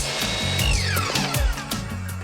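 A power saw cuts a 45-degree angle into wood trim, a loud, rising and falling buzz with whining pitch sweeps as the blade bites through the piece, heard alone.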